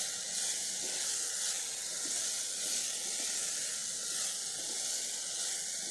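Green chili sizzles in hot oil while dal fries, a steady, dense hiss that holds evenly throughout at close range with no talking.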